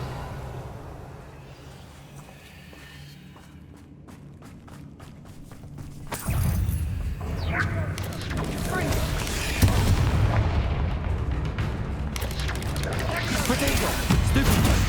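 A Bombarda spell explodes in Hogwarts Legacy, a heavy booming blast that swells in halfway through and rolls on loudly with crackling debris over a steady game ambience.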